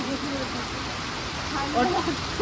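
Heavy rain falling steadily as a dense continuous wash of noise outdoors at a scenic spot, with someone talking faintly under it.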